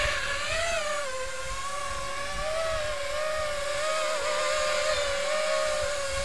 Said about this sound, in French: Donc là, si on écoute, les moteurs tournent bien.